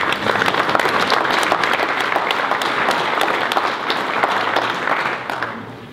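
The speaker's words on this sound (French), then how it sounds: "On peut les applaudir pour leur investissement." Audience applause at a municipal New Year's wishes ceremony, a dense, steady wash of many hands clapping that holds strong for about five seconds before beginning to fade.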